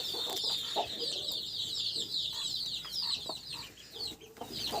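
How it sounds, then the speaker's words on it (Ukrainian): Bantam chickens cluck and young roosters make cracked, unsteady attempts at crowing, a busy flock close by with overlapping high calls and no talk. "Вони так смішно вчаться кукурікати, це капець."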